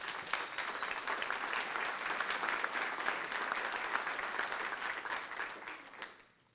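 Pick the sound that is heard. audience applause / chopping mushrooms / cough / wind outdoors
audience applause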